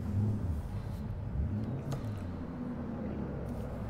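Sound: Lamborghini Urus engine revving in video game

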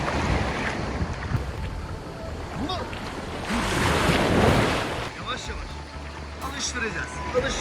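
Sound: sea waves at the shore as a dog enters the water

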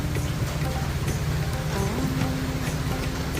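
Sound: rain

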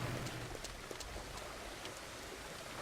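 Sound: rain in Farmers Dynasty video game

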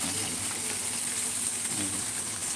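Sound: waterfall

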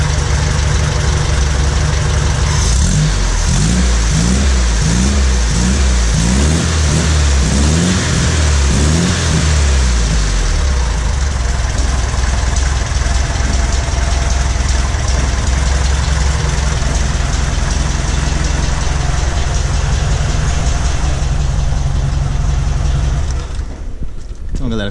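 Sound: Volkswagen Fusca engine starting and idling, diesel oil 15W40

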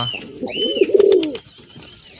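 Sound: pigeon cooing

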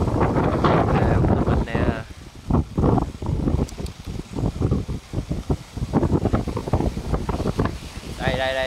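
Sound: strong wind gust over a lake

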